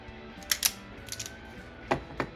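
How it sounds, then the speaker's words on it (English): Wire strippers bite and pull insulation off a red wire, giving a few short mechanical clicks and snips in two clusters, close and fairly quiet against a faint room hum. "I'm going to strip that."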